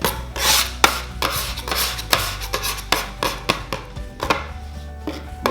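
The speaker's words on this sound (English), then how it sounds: "We'll take a bent scraper and we're going to pre-shape this loaf. Put it along the work surface" A bent bench scraper pre-shapes a loaf of yeast bread dough on a work surface, giving a run of close scraping and rubbing strokes in a steady, uneven rhythm with no talk.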